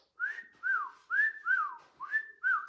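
A person whistles a short, close tune of six sliding notes, each rising then falling, in an even rhythm with brief gaps and no other sound.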